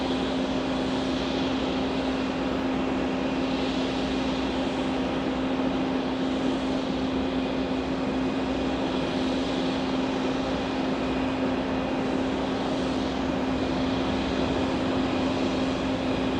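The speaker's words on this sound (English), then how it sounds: "Delta 273 flying in from Lisbon." A Delta airliner on flight 273 from Lisbon arrives at New York's JFK airport, its engines a steady, loud broadband roar with a sustained tonal whine running throughout, unbroken and alone.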